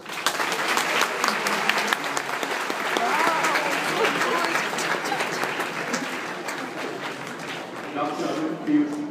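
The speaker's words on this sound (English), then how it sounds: "Let us welcome him with a loud applause." Audience at a school dental awareness camp clapping to welcome a doctor, a sustained dense round of applause from a crowd lasting throughout, fairly loud and even.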